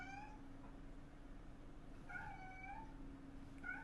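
A hungry, slightly chubby pet cat meows loudly a few times indoors, with harmonic cries near the start and again toward the end over a quiet low hum.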